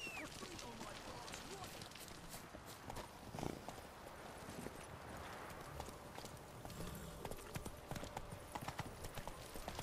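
Horse hooves clip-clop steadily as the horse Roach gallops in The Witcher 3 on PS4, a continuous rhythmic pounding lasting the whole stretch, mixed with faint game ambience and murmuring voices.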